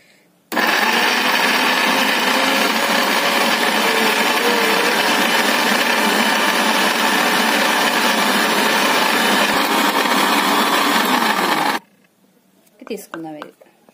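A kitchen mixer grinder blending tomato and peanut chutney runs loud and continuous for about eleven seconds with a high whirring buzz, then cuts off abruptly, followed by a short burst of a voice.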